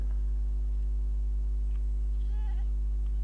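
A Minecraft goat's bleat rises and wavers briefly over a constant low electronic hum, with a couple of faint clicks nearby.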